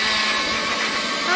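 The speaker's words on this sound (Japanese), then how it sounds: "ちゃんとした掃除機だ。" A car vacuum cleaner runs off a RAV4's cigarette lighter socket with a steady, fairly close whirring whine that holds even throughout the brief moment.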